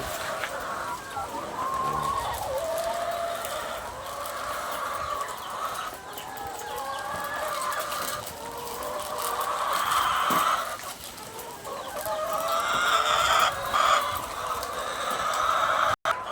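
A flock of 45-day-old chickens clucks and chatters at feeding time on a farm, a dense, steady chorus of hens close by with occasional louder calls and no talk over it.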